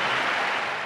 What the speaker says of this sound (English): And the crowd here very much in approval.